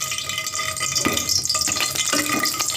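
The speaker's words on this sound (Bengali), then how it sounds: "হালকা ভেজে নেব।" Bay leaves and cinnamon pieces fry gently in cooking oil for hotel-style spicy shingara, a soft continuous sizzle with occasional stirring scrapes and clinks of the spoon, close and fairly loud.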